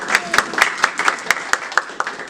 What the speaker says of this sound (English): I want you to give yourselves a round of applause for being in this room